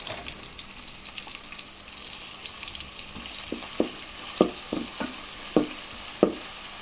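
Ginger garlic paste frying in a pan, a low steady sizzle with a spoon stirring and scraping in a string of sharp, close strokes that grow more frequent toward the end.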